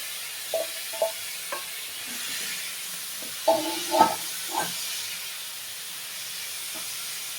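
White pumpkin and appalam frying in a pan give a steady soft sizzle and hiss throughout, with a few faint knocks of stirring.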